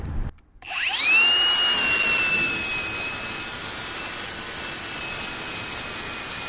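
An angle grinder spins up after a brief thump and then holds a loud, steady high whine as it smooths the steel frame of a 1973 Harley Sportster. It sounds close and continuous, with no talking.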